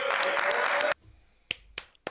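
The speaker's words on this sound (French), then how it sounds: "applaudissez-la, s'il vous plaît." Studio audience bursts into dense, loud applause for about a second before it cuts to near silence, with a faint sustained tone running beneath the clapping.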